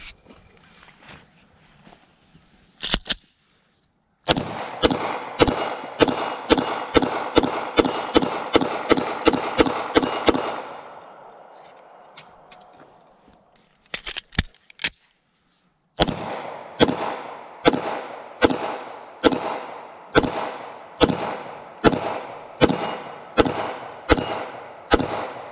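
Glock pistol fired rapidly at an AR500 steel target outdoors, two long strings of evenly spaced sharp shots each followed by a ringing metallic clang, separated by a brief pause for a magazine change, loud and close with no talk.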